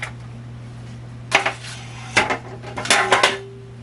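Scallions being mixed into fried rice in a pot, heard as a handful of sharp metallic scrapes and clinks of a utensil against the pot over a steady low background hum.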